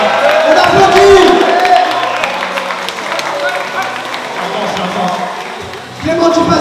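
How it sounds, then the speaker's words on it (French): Audience applause and crowd noise at the Nutrimuscle Challenge fitness event, a busy wash of clapping and murmuring with voices talking over it, steady and fairly loud. "On applaudit."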